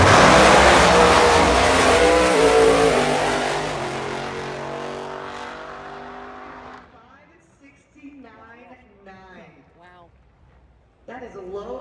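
A drag racing car roars down the strip at Summit Motorsports Park, a loud broadband blast that fades away over several seconds, followed by an announcer talking over the quieter track.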